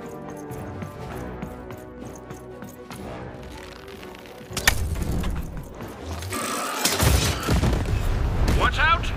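Loud booming cannon shots and blasts ring out amid busy game sounds and a clattering, rhythmic background in the PS5 game Lost In Random, with a voice speaking over parts of it.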